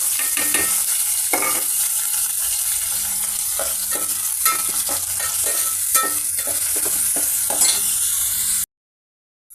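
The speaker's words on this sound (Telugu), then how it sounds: "పోపు మసాలా, పెద్దలిపాయలు, పచ్చిమిర్చి, కర్రీ లీవ్స్ అన్నీ ఫ్రై అవుతున్నాయండి." Loud, continuous sizzling of onions, green chilies, curry leaves and seasoning spices frying in hot oil, with occasional scraping stirs of a spoon in the pan, ending abruptly.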